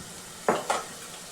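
Thinly sliced onion pieces drop into a hot pan for a crab curry, giving two quick sizzling bursts, the first a little louder, each fading out fast.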